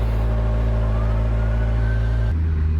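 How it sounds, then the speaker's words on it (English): A Kawasaki Ninja 1000 motorcycle engine idling and running steadily close by, a loud, deep, even hum that drops to a lower, rougher tone near the end, with no voices over it. "so this is a Ninja 1000. I already love the sound."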